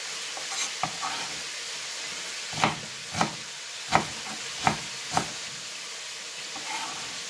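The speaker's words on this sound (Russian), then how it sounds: "Перемешаю фарш." Minced meat fries with diced vegetables, leek and onion, in a pan, hissing steadily while a utensil scrapes through it in about five evenly spaced stirring strokes.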